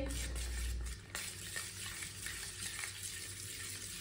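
Eggs are stirred together with salt, ground red chili and turmeric, giving a quiet, steady scraping and sloshing that stays soft and continuous throughout.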